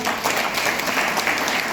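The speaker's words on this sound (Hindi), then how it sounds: "एक बार जोरदार तालियां" Vigorous audience applause at a business gathering, many hands clapping in a dense, continuous roar that stays loud and even from start to finish.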